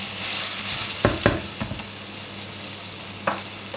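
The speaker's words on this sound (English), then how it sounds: "Once the onions are caramelised, we're going to drop the temperature a little bit, add the garlic and the chilli. So we're just going to let these cook." Onions, garlic and chilli fry in a pan with a steady bright sizzle, broken by several knocking stirs against the pan, close and fairly loud.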